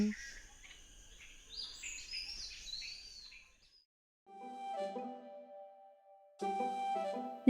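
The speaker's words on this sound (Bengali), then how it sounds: "প্রভাত পাখির গান" Morning birds in Purulia, West Bengal chirp and sing in bright, shifting calls, then a pause, followed by another burst of chirping with a steady whistled tone.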